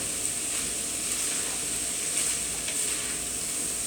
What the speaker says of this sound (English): You definitely smell the garlic cooking in with the onion and the burger at this point.